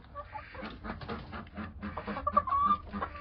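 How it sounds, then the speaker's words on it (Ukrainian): Domestic backyard chickens cluck nearby in irregular bursts, overlapping each other, with a sharper squawk rising out of the flock near the end. "Ох, і кури ж у мене."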